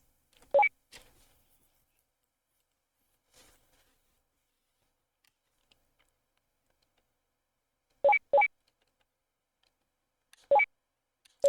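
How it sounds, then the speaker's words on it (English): Phone button beeps in the Juiced video game, short electronic tones in separate groups of one or two, with near silence between them. "The sound of the buttons are actually coming through the phone."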